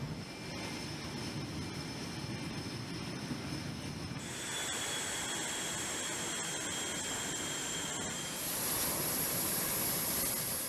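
An F/A-18 Hornet military jet taxis onto the catapult of an aircraft carrier deck, its engines giving a loud, continuous roar with high whining tones that shift in pitch partway through.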